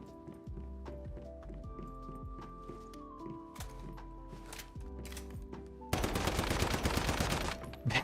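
An upgraded gun in Once Human opens up late with a dense, loud burst of rapid automatic fire, after several seconds of tonal game music and scattered clicks and thuds.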